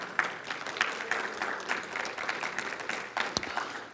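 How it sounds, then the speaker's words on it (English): A church congregation at a Sunday service applauds, with a steady patter of many hands clapping at moderate level for a few seconds before it fades out. "Give her a cheer, will you?"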